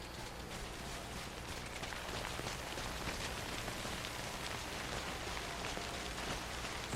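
Steady, dense rain in the video game Death Stranding, an even wash of falling drops throughout with no talk.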